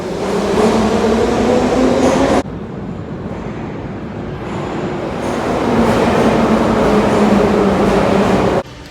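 Loud, continuous rumble and roar of a Moscow Metro train running through a tunnel toward Teatralnaya station, with a steady whine and an abrupt shift in tone partway through.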